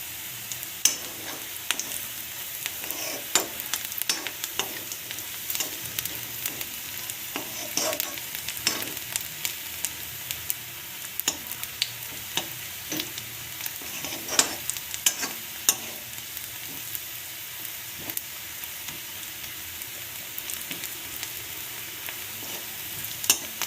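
Onions sizzle steadily in hot oil in a pan for mung dal, with frequent close scrapes and clicks of a spoon stirring them throughout, and no voice over the cooking.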